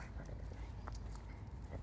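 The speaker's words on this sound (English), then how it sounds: "she's barking at somebody she saw walking" Carmen, a dog, gives a single sharp bark near the end, alerting at a passing stranger, after a stretch of low rustling outdoor background.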